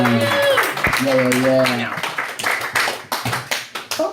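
Audience at a comedy open mic applauding a comedian as his set ends, the clapping building over a speaking voice and then thinning into scattered individual claps.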